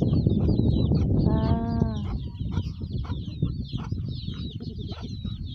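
Chickens and chicks on a farm cluck and squawk nearby, a rooster-like call rising briefly among them, while high thin peeping from chicks continues steadily over the flock's chatter.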